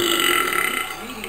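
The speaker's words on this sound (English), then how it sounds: "I should be on sports science for burping." A man lets out one long, loud, close-up burp that lasts over a second and trails off gradually.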